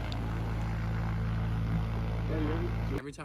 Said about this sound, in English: Being at an active airfield can be kind of loud,